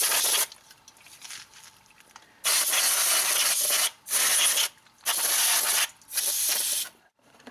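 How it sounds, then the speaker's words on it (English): Brake cleaner is sprayed onto a car's front brake rotor during a brake pad replacement. Several loud, close hissing bursts of varying length are separated by short pauses. "now I'm going to spray this down with some brake cleaner."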